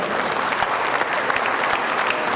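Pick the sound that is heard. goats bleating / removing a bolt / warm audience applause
warm audience applause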